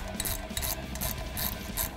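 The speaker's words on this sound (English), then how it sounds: "After that is easy to ratchet down, we can remove it." A hand ratchet clicks in rapid, even strokes while driving a bolt on a 3.5-inch lift kit for a Jeep Wrangler JK, close and clear with no talking.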